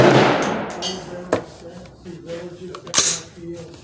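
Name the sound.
S&W M&P15 rifle gunshot at 100 yards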